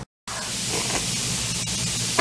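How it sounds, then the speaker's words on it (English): A LOL Surprise pearl toy fizzes in a bowl of water, a steady close hiss of bubbling that runs continuously after a brief silence at the start. "So it's fizzing."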